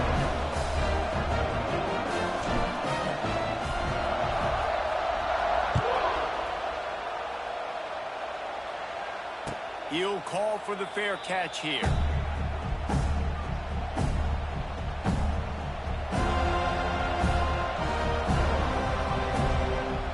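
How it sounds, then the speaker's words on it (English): Stadium crowd roaring in EA College Football 26 at a kickoff, a loud continuous wash of noise that runs the whole way under a commentator's voice, briefly swelling near the middle. "This place is roaring, and it's going to be so hard to operate under these conditions."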